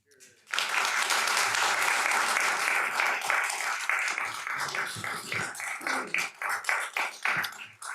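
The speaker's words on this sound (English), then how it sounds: "if you could please hold down the applause" Loud, sustained applause from an audience at a county board of supervisors meeting, starting abruptly and carrying on for several seconds with scattered claps as it thins toward the end.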